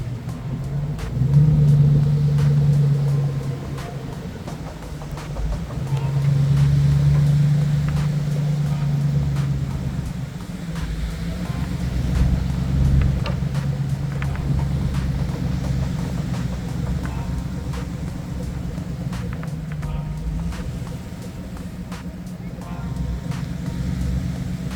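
A two-wheel-drive GMC Sierra pickup driving out onto beach sand, its engine a steady low rumble with gentle surges, heard from inside the cab, sustained throughout.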